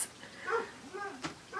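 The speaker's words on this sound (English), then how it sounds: "That's my dog barking in the background." A dog barks a few times in the background, soft and somewhat distant, with short yips rising at intervals over a quiet room.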